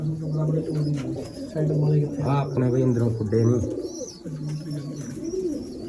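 Low, repeated pigeon coos come in short rounded phrases, with someone talking casually over them nearby.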